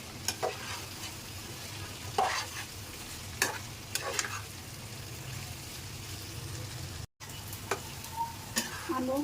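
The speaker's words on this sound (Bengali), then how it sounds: "এখন পেঁয়াজ, আলু আর আদা রসুন এগুলা একটু ভালোভাবে ভেজে নেব" Onion, potato, ginger and garlic fry in oil with no water, a steady close sizzle broken by occasional scraping stirs of the spatula through the pan.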